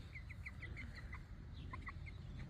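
Chickens on a farm give short, repeated clucks in quick bursts, fairly close, over steady outdoor background noise with no talking.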